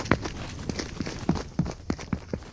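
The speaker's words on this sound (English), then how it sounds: "Footsteps on my level." Fortnite footsteps on the player's own level: a steady series of close, thudding steps with crisp detail, about two per second, alone without speech.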